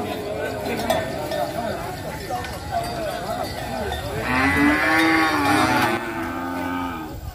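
Cattle moo at a large cattle and buffalo market in Ha Giang, one long, loud low call rising out of a busy crowd hum, with people talking and faint clinks around it.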